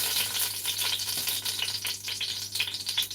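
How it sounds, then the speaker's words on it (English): Oil frying and sizzling in a cooking pot before onions go in, a steady bright crackle with stirring rattles, close and loud throughout, no talking. "We're gonna fry first, then we're gonna add our onions."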